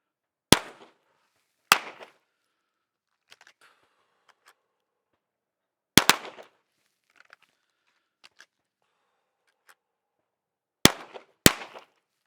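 Handgun shots on a shooting range, fired as one shot per draw three times, sharp loud reports arriving in close pairs with long quiet gaps and faint small handling clicks between them.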